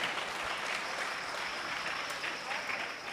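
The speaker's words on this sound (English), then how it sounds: "So we'd like to thank them by giving a big round of applause for cooking today's Sunday Feast." Applause from a temple Sunday Feast gathering honoring the cooks, a short steady spread of many hands clapping at moderate distance, without talk.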